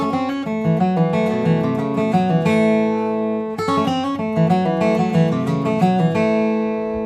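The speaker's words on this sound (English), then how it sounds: "Here's a neat little lick I come up with that you could play in a lot of bluegrass songs" An acoustic guitar plays a quick sweep-picked bluegrass lick in G of rapid rolling notes, repeated twice, each time ending on a ringing chord, clear and close.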